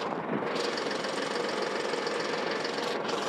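A compact tractor's engine runs steadily while a post hole auger is positioned, a loud continuous knocking drone that holds even throughout with no talk.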